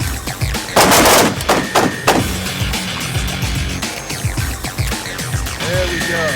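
An AR-15 rifle fires two quick rounds on a shooting range, with a further burst of shots close behind them, loud sharp cracks with echoing tails followed by softer clatter and movement.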